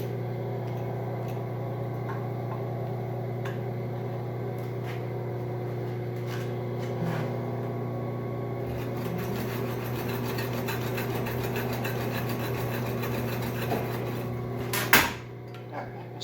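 An industrial machine churning butter at 325 RPM gives a steady, loud mechanical hum with a constant low drone. Faint rattles and knocks come in the second half, and a sharper clatter lands near the end.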